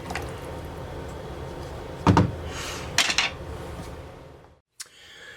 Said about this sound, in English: I'm going to slam a lid on it